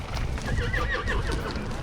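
Horses on the Reno Rodeo Cattle Drive, a whinny rising over a steady, dense clatter of hooves and rumbling movement, close and continuous through the short stretch.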